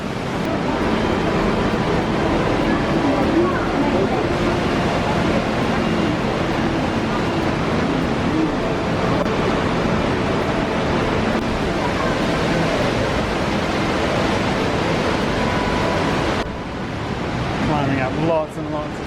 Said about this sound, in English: There's the underground waterfall.